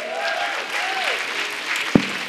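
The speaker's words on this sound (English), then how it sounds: "Can we please hear a huge round of applause for her" An audience claps in a round of applause at a Magnificat campus concert, steady crowd clapping with a brief voice or tone drifting over it and a single sharp knock near the end.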